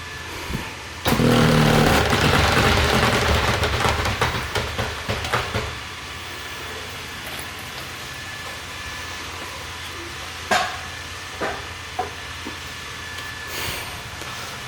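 A QuickJack car lift lowering a 2019 VW MK7.5 Golf R, with a loud hissing rush of released pressure for a few seconds, then scattered clunks and clicks in a quiet garage.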